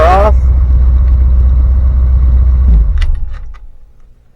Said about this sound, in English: So I'm going to go ahead and turn the car off.